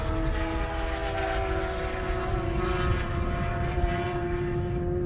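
A Kawasaki Ninja H2R motorcycle runs a half-mile drag race on an airstrip against a Tesla Plaid, heard as a steady, loud, high-pitched engine drone that holds without a break for several seconds with no voices.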